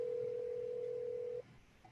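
A single steady telephone ring tone on an unanswered call sounds for over a second and then cuts off, leaving quiet room noise.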